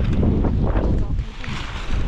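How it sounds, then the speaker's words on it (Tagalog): Strong gusting wind buffets the microphone in rough, loud bursts that swell and ease over a couple of seconds, with a faint voice underneath. "Gawa ng ang hangin po ay sobrang lakas oh."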